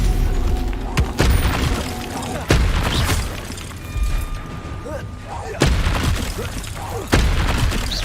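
Bombarda explosion spell cast in Hogwarts Legacy, several loud booming blasts at irregular intervals with sharp attacks, layered over game ambience and effects, with some speech mixed in.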